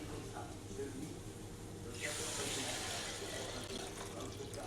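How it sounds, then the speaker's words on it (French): Water pours into a pot of placali gombo sauce, a steady rushing splash that swells midway and continues over a faint background hum. "Je vais rajouter de l'eau."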